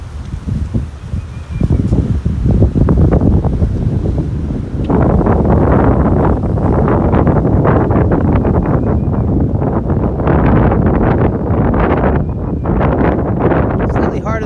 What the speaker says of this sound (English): So I'll deal with the wind a little bit